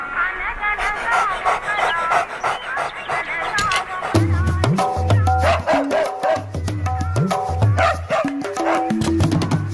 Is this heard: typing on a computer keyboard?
no